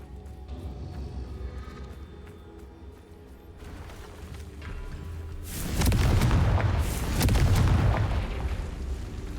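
The Confringo explosive spell in Hogwarts Legacy goes off as a sudden heavy blast partway through, followed by a loud rumbling, crackling burst that swells again and then fades.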